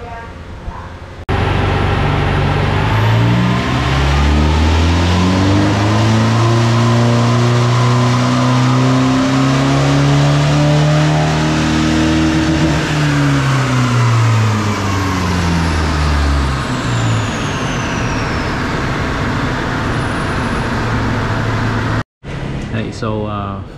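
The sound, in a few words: Nissan Navara 2.3 twin turbo revving on dyno test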